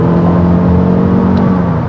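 A 2024 Toyota RAV4 plug-in hybrid SUV with a CVT accelerates, a steady smooth engine whir with a sustained tonal hum, heard from inside the cabin at close range without talk.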